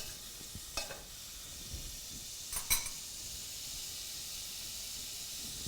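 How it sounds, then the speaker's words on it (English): Butter sizzling and hissing in a hot pan with mushrooms, a steady soft crackle with a few brief louder spits and stirring scrapes, close by with no talk. "We're going to add a little bit of whole butter to the pan."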